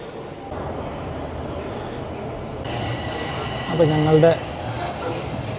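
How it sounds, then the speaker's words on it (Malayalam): A Toronto subway train pulls into a station in the city's downtown on New Year's Eve, a steady rumble with a rising brake squeal and a sustained high tone near the end, while someone talks over it. "ട്രെയിൻ എത്തിയിട്ടുണ്ട്"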